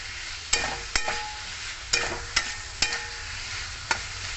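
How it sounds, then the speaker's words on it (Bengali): Fried potatoes are sautéed in oil-releasing spice paste for a Bengali dhokar dalna, a low steady sizzle broken by a handful of sharp spatula scrapes and knocks against the pan, close and without talk. "মশলাটা তেল ছেড়ে গেলে ভেজে রাখা আলু দিয়ে দেবো। আলুটাকে ভালো করে কষিয়ে নেব।"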